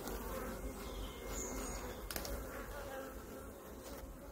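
Honeybees buzz steadily around a beehive that is aggressive, a continuous close, dense hum with no talk.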